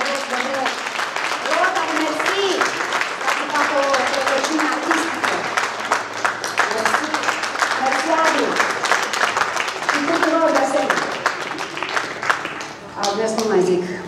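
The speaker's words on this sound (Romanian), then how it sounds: "încă o dată vreau să mulțumesc celor de la Rotary pe care vreau din suflet să-i aplaudați" Audience applause for Rotary members at an art event, steady dense clapping from a crowd lasting throughout, with voices mixed in beneath.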